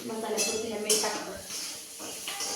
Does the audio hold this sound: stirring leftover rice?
yes